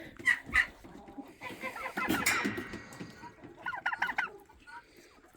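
A backyard flock of chickens and ducks clucks and calls close by on a cold day while being fed treats, a busy overlapping chatter of short clucks rising and falling with no speech.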